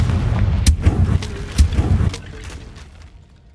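A Confringo fire spell blast from Hogwarts Legacy thumps out in a cluster of close, punchy low bursts with sharp cracks, then the rumble trails away and fades.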